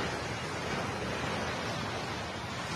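Sea water rising and rushing up onto the shore in Davao, a steady broadband wash of surf heard alone, with no voices.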